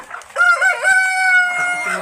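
A rooster among laying hens and pullets fed homemade feed lets out one loud, drawn-out crow close by, followed by softer clucking at the end.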